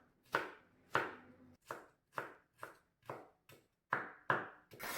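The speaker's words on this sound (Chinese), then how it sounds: "再切丝，最后将它切碎。" A knife chops a small piece of carrot into fine bits on a cutting board, giving nine crisp, evenly spaced thuds in a steady rhythm, close and clear against silence.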